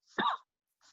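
A single close, fairly loud cough burst, followed after a short pause by a fainter second sound.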